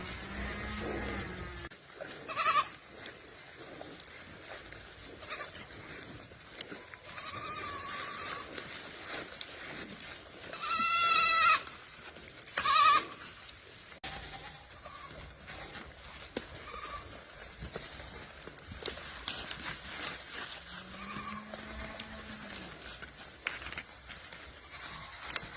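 Goats in a wooded enclosure bleat a few times, near and fairly clear, amid rain patter and a steady outdoor background.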